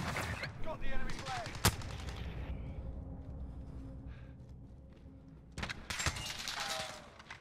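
Gunfire in a first-person video game shooter: sharp shots and short bursts, loudest at the start and again near the end, mixed with game sounds and players talking over it.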